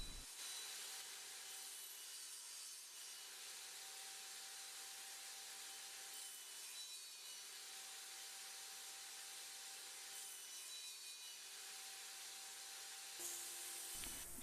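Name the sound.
saw cutting dado cuts in wood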